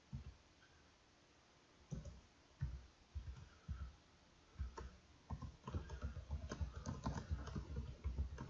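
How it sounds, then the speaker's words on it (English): Someone typing on a computer keyboard, quiet at first and then bursts of close keystrokes that become rapid and continuous toward the end, with no voices. "You can type in what I'm typing."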